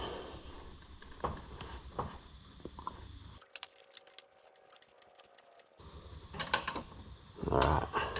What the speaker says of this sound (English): now I gotta hold one side and get the other one with the wrench.